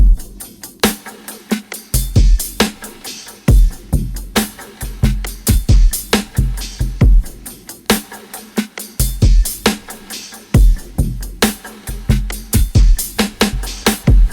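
Heavy halftime drum pattern with reverb and long delay tails, loud and punchy kicks and snares repeating in a slow, steady groove across the whole passage, with no voices.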